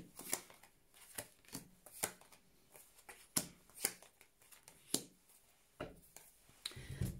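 Josephine Wall tarot cards being shuffled by hand, a run of soft papery riffles and taps coming in irregular bursts, close and quiet with no talking.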